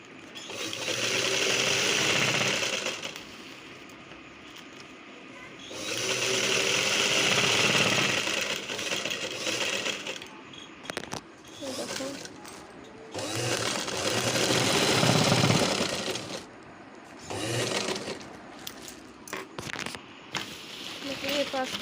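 A motorized sewing machine, once treadle-driven, stitches in bursts, its whirring mechanical run starting and stopping with pauses between seams, fairly close, with some talk or background voices around it.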